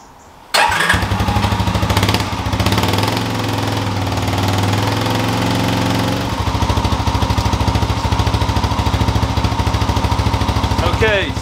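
A 4x4 Willys mini jeep's small engine cranks and catches, then settles into a steady, close-up idle with a brief change in pitch partway through.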